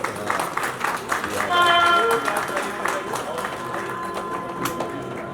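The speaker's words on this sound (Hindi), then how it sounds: "सब ताली हो जाए सब।" Clapping from a crowd at a journalists' awards ceremony, loose and uneven, with someone talking over it and a brief high tonal whistle or chime midway.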